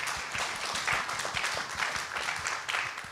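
An audience at a citizens' debate forum gives a round of applause, producing a dense, even patter of many hands clapping at moderate volume throughout, with no speech over it.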